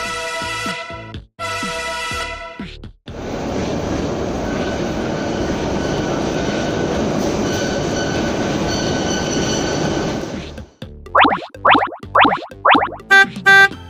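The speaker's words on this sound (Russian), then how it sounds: "Ну, конечно, это поезд метро." A metro subway train rumbles loudly and steadily for several seconds as it passes, framed by rhythmic clacking and squealing wheel sounds before and after, with no voices.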